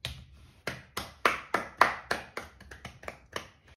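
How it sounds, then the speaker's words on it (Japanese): A short run of sharp claps, roughly a dozen slaps in an uneven rhythm, close and fairly quiet, with no talking. "これは拍手。"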